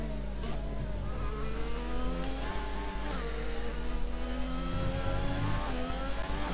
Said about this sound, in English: Just revving up the engine a bit.